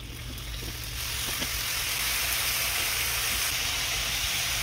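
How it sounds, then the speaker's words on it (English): Bacon starting to fry in a pan for a breakfast mix, a steady broadband sizzle and hiss that swells slightly after the first second and then holds at an even level with no talk. "we're gonna get our bacon started"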